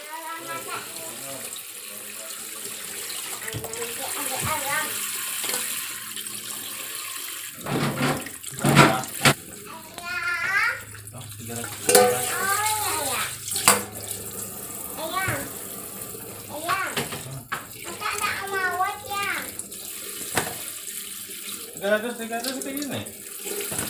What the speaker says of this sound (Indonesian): saya bilas terakhir pakai air panas ya karena tadi kan cuman pakai air keran